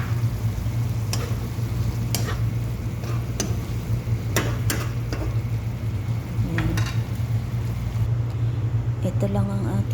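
Ingredients for a home-cooked Filipino viand sautéing in a hot pan, a steady loud sizzle with clinks and scrapes of stirring throughout, while a person talks over it.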